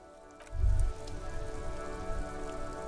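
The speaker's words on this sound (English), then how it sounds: "Rain drips from the eaves and floods the gutters, washing the filth away." Steady rain pattering on surfaces across a city in the video game Disco Elysium, a dense continuous hiss over a low rumbling bed, with no voices.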